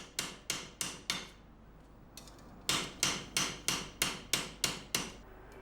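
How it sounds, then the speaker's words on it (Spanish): A coppersmith hammers a copper reinforcing band over a stake to curve it for a copper cauldron: sharp metallic blows in a steady rhythm, a quick cluster of four, a pause, then a run of about ten evenly spaced strikes, close and clear. "este calderero la golpea por uno de sus lados para ganarle la curvatura hasta que tome la forma de arco"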